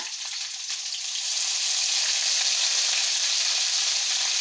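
Mustard seeds fry in hot oil with a dense, steady crackling sizzle that holds at an even, fairly loud level from start to finish, with no voices over it.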